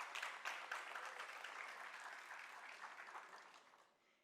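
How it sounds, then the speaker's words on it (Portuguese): An audience applauds at a launch event for a skateboarding social project, dense clapping at moderate volume that thins and fades out over about four seconds, with no talking. "Aplausos."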